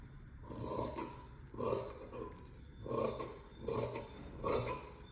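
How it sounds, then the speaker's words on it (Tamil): Scissors snipping through the fabric of a kurti sleeve in a series of five rhythmic, rasping cuts, close and fairly quiet, with no talk. "ஒரு 1/2 இன்ச் வந்து ஃபோல்டிங்க்கு விட்டுட்டு நான் இதை கட் பண்ணி எடுத்துக்கிறேன்."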